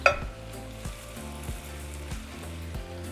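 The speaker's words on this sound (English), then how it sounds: "we're just going to cook for about 7 minutes until the meat is fully cooked" Meat and bacon frying in a pan for tacos de alambre, a faint steady sizzle under a quiet tonal background with an opening clink and soft periodic stirring bumps.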